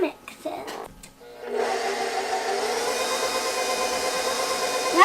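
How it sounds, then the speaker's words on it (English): An electric mixer churns chocolate chip cookie dough, starting with a few knocks and handling noises, then settling into a steady, close mechanical whir that runs to the end. "And now we have to mix it."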